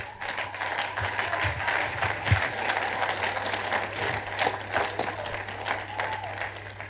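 A church congregation claps at a steady roar through the whole stretch, dense and fairly distant, with a low hum underneath.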